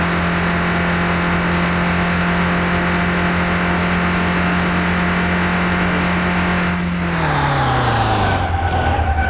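A Ford Escort's engine drones loud and steady while driving, then its pitch sags and winds down toward the end as the motor fades.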